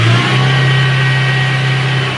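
An Isuzu Elf freezer van with a six-speed setup holds a loud, steady high rev, a close, droning engine tone with a strong low hum and no talk.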